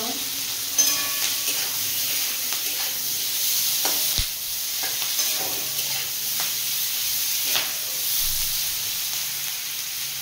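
Capsicum fries for chilli paneer in a pan with a steady, loud sizzle throughout, broken by a few clinks and scrapes from stirring, close and with no talking.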